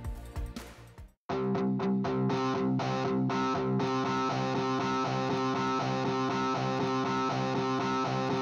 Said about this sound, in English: we need to raise the velocity of our distortion guitar track